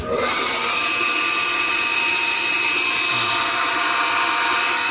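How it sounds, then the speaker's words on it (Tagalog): A water pump runs at a well with a steady, loud mechanical whine and hum that holds constant, close by and uninterrupted throughout. "gumagana yung bomba"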